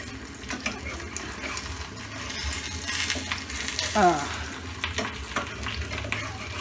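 Egg frying in a pan with pointed gourd, a steady close sizzle with stirring scrapes and a brief splash of water partway through.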